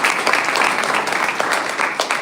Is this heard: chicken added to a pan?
no